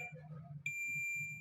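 A multimeter's continuity beep sounds while probing a Suzuki GS self-starter armature winding. A low hum comes first, then one sharp, steady high-pitched tone cuts in and holds to the end.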